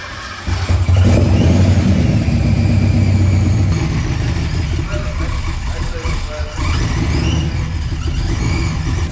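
A Foxbody Mustang engine fitted with a Vortech V3 supercharger cranks and catches, then idles roughly with a loud, continuous rumble close by, while people talk over it.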